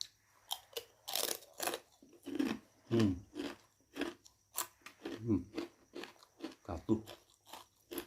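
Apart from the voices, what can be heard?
crunching Wonosobo mendoan tempe chips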